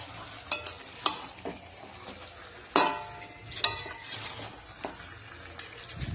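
Mutton frying in a pan as it releases oil and water, with a soft sizzle under repeated scraping and clinking of a spoon stirring against the metal, close by and irregular.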